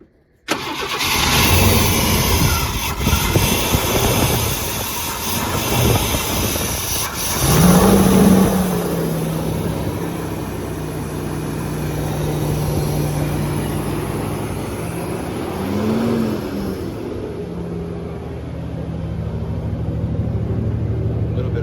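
A 1991 Chevrolet Blazer, revived after sitting abandoned, cranks and fires up, then runs on its own fuel. The engine revs up once and settles into a steady, close, loud idle, with brief talk in places.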